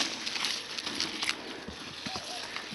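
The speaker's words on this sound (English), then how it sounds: "Here comes the horses." Hooves clip-clop irregularly as horses approach across the ground, a few scattered hoof strikes amid outdoor noise and faint background voices.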